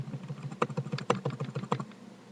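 Quick bursts of typing on a computer keyboard at a Unix command line, about a dozen sharp, close key clicks in an uneven rhythm, quiet and without talk.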